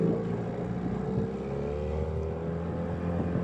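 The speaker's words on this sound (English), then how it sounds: "here we go for a little ride across the lake." A motorboat cruises across Paulina Lake, its engine holding a steady droning hum with a constant low rumble and light water wash, close and unbroken, with no voices.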